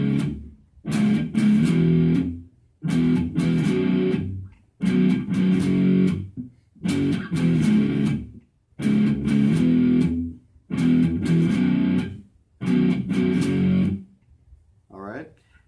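A distorted electric guitar chugs through the pre-chorus rhythm of a song in heavy, evenly timed bursts separated by short muted gaps, loud and alone, ending with a brief faint noise.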